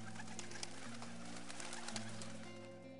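Racing pigeons coo softly in a loft, with low rounded repeated calls layered over one another and a constant background hum, no talking.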